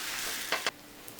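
Pancake batter frying in a hot pan gives a steady, soft sizzling hiss with a couple of brief crackling pops near the middle.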